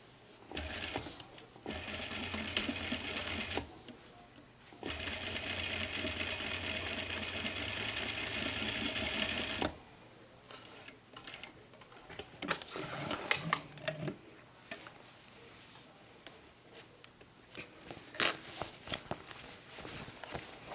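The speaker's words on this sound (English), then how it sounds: "I'm just going to go ahead and sew the box." A sewing machine stitches a mini box tote in two bursts of quiet, rapid whirring, then gives way to soft handling clicks and rustles of fabric at close range.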